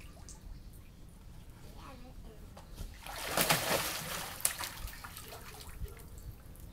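A child splashes water in a short burst of a few seconds amid quieter dripping and background noise, with no talking.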